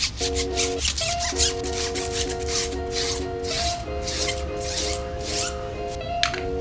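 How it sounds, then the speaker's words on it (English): Sandpaper scuffs the lettered surface of a Yokohama AD08R tire in steady, rhythmic back-and-forth strokes, close and moderately loud, with a constant tonal hum in the background. "So let's sand this down. It just scuffs up the surface a little"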